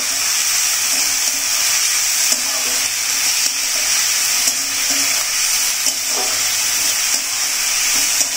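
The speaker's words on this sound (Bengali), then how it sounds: "এবার বেশ করে নাড়িয়ে মিশিয়ে দেবো আলুর সাথে" Bitter cumin leaves and potatoes stirred and fried in a pan, a constant bright sizzle with soft scraping stirs recurring every second or so, close and loud.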